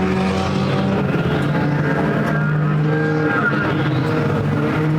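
Mini stock race cars roaring around the Perris Auto Speedway track, engines droning loud and continuous as cars pass close by, with a faint announcer voice mixed in.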